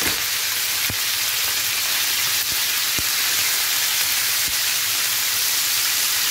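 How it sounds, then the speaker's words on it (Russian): Meat sizzles and crackles steadily in a hot pan, a close, constant hiss with a few soft knocks of utensils. "Мы будем мясо обжаривать очень быстро."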